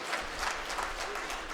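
A seated audience at a Karnataka NPS government employees' association state executive committee meeting in Davanagere claps together in a brief, steady burst of applause, heard from within the hall.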